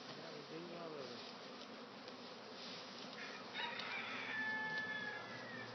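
A honey bee swarm buzzes in a low, steady hum during a capture outdoors, with a rooster crowing faintly in the background partway through.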